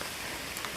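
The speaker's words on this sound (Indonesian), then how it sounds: "Hujan tapi nggak begitu deras, alhamdulillah." Light rain falls steadily on a mountain hiking trail, a soft, even hiss of drops with no talking, quiet and unbroken through the short moment.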